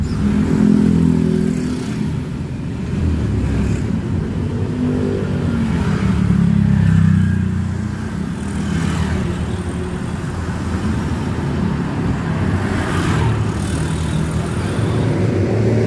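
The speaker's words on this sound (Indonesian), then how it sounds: "masih padat kayak gini nih di Jalan Raya Puncak" Dense, slow-moving traffic jam on Jalan Raya Puncak, with car engines idling and revving, motorcycles passing close by and a continuous roadway rumble throughout.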